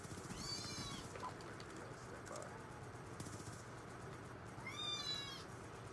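A cat meows twice, once near the start and again near the end, each call clear against a quiet background of faint game noise.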